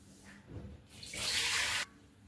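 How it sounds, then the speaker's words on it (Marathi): Water poured off soaked semolina from a large cooking pot, heard as one short, bright splashing pour that stops abruptly, with faint quiet kitchen sounds before and after. "हे वरचं पाणी काढून टाकणार आहे आता सगळं."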